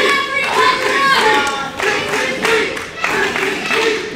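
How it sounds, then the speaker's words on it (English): Wrestling crowd clapping in rhythm to rally behind a wrestler, a steady run of loud, dense hand claps that rises and falls in waves. "The crowd trying to get behind Christi Jaynes to will her back into this matchup"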